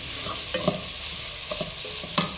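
Onion frying in a pan with a little salt, a steady close sizzle with a few sharp stirring scrapes of the spoon against the pan, no voices.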